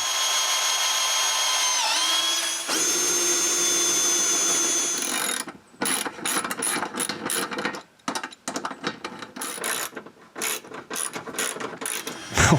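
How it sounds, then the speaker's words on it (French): A ratchet tightens bolts on the upper part of a solar panel support at a cabin. A steady mechanical whir gives way to choppy, uneven bursts of ratcheting clicks, close and fairly loud. "Quand c'est fait, je peux boulonner la partie du haut du support."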